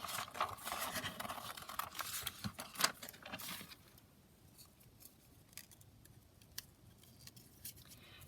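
Scissors cut pictures out of a children's book for a craft journal. Soft, close snipping and paper rustling come in quick bursts at first and then thin out into sparse, faint snips.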